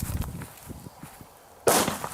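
A homemade fragmentation bomb made from a JC09 firecracker packed in dirt goes off outdoors, one sudden loud blast near the end after quiet shuffling steps.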